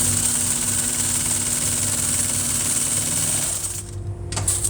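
An upholstery sewing machine runs steadily, stitching welt for a chair, with a constant loud motor hum and rapid needle rattle that eases and then briefly picks up again near the end.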